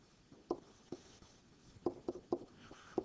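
A pencil writes a fraction on paper: faint, close scratchy strokes in several short bursts with quiet gaps between them.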